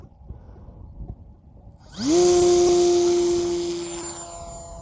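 An E-Flite Piper Cherokee RC plane's motor spools up sharply from quiet outdoor background into a loud, steady high-pitched whine at full throttle, holding for a couple of seconds before easing slightly as it fades.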